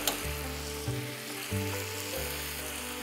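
Raw banana curry fries with coriander powder, turmeric, red chili and salt while being stirred, giving a strong steady sizzle with low rhythmic scraping swells about every half second, close by and without speech.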